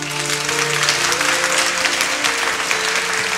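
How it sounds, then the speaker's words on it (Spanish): Audience applause for a woman named Gisela being introduced at a Christmas gathering, a steady dense clapping from a crowd lasting throughout, with a low voice murmuring underneath. "Un aplauso"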